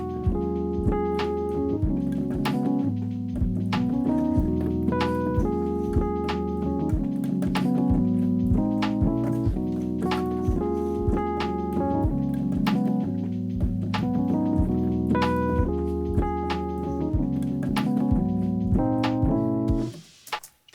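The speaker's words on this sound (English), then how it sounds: "So I've got an 8-bar loop" An 8-bar music beat loop with steady drums, bass and chord stabs repeating in a regular groove, loud and continuous without talk, cutting off near the end.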